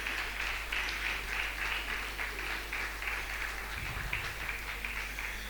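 Loud, sustained applause from a conference crowd during an honouring at a family conference in Coimbatore, dense steady clapping throughout with a brief low rumble near the end.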